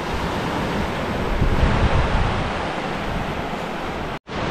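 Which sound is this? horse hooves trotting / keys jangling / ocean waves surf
ocean waves surf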